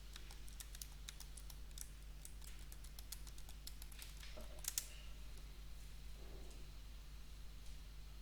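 Typing on a computer keyboard to enter a password, a quick run of light, close key taps in an irregular rhythm over a steady low electrical hum, quiet overall and without speech.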